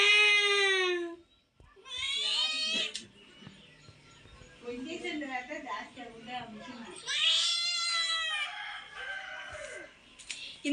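A cat meows repeatedly in long, high, wavering calls, close and fairly loud, with short pauses and a lower murmuring stretch between cries.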